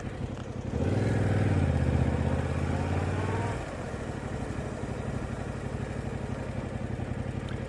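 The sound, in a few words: motorcycle engine during Module 1 riding test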